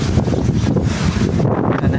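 Strong wind roars and buffets the microphone in a steady, dense rush of noise with no voices.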